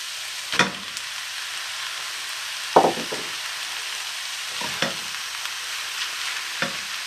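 Rice being stir-fried in a pan for vegetarian fried rice: a soft background sizzle broken by a few separate scraping, knocking strokes of a utensil against the pan.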